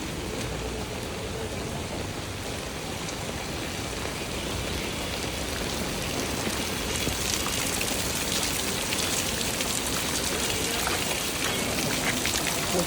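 Heavy rain pouring down on a city street in Dhaka, a dense, loud, unbroken hiss of falling water with spattering drops, steady throughout with no voices.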